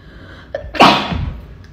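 A single loud, close sneeze with a short breathy intake just before it, standing alone against a quiet room.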